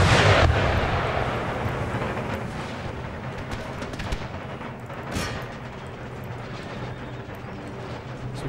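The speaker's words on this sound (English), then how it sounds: "our howitzers are on the march. Well, not on the march, they're ready to fire." Howitzer artillery firing in the Empire Total War strategy game, heard as a rumbling battlefield wash with a sharp boom near the start and another around five seconds, steady distant gunfire texture throughout, no talk.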